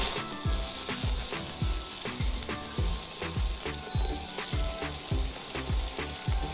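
Whole spices, black pepper, black cardamom and finely chopped onion fry in a pan, giving a constant close sizzle broken by a regular series of soft thumps and scrapes from stirring, about two per second.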